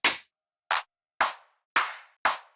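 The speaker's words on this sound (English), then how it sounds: "Let's layer it with a clap." Five crisp, dry electronic clap sample hits in a trance production, evenly spaced about half a second apart, bright and snappy with short decays, no other sounds.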